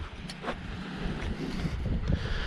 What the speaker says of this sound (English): As you can hear, it is a little windy.